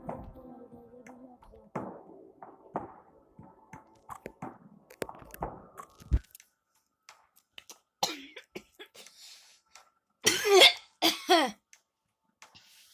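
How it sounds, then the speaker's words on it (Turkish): Several loud, harsh coughs come in rough bursts toward the end, after quieter rustling and small throat sounds. "Ayı gibi öksürdüm."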